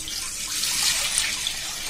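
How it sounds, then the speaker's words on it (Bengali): Milk pouring into a cooking pot while yogurt is prepared, a steady close liquid rush that runs for the full stretch with no talk. "এগুলো পাতিলে ঢেলে দিচ্ছি।"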